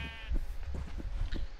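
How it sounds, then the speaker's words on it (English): Sheep bleat in a blocky Minecraft-style farming game, a short harmonic bleat up front followed by soft low thumps and rustles of animals moving about nearby. "Trying to get the sheep out of the way"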